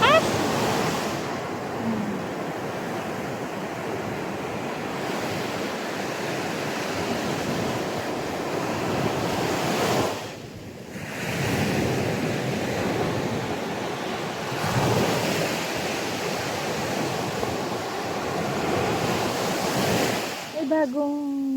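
Rough surf pounding a beach in Batangas, Philippines, a steady loud roar of breaking waves with surges every few seconds and wind buffeting the microphone throughout.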